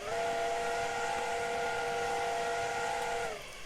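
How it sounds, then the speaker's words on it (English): Steam whistle of the Flying Scotsman locomotive in the Train Simulator 2016 video game sounds one loud, steady, multi-toned blast for over three seconds before cutting off. "Let's blow the whistle."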